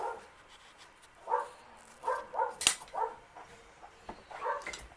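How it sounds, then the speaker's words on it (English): Dogs fighting, with short, fairly faint growling barks and yips coming in irregular bursts, one sharp crack in the middle, over a quiet background. "here are our dogs fighting like crazy"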